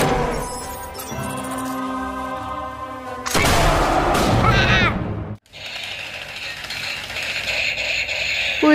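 Plastic toy bazooka being handled, with steady ratcheting clicks and mechanical whirring, then a louder burst of toy firing effects close by.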